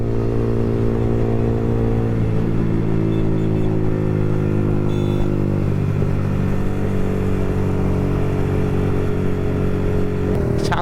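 Yamaha R15 sport motorcycle riding along a road, steady loud engine drone with wind noise throughout and slight shifts in pitch as it cruises.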